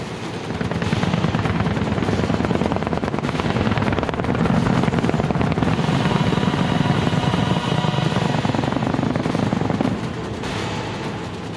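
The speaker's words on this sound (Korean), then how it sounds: "아파치 헬기가 사격을 위한 대형을 갖추고 있습니다" Apache attack helicopters fly in formation for a live-fire drill during a combined military firepower exercise, a loud dense rotor roar with rapid beating that holds steady throughout, no voices.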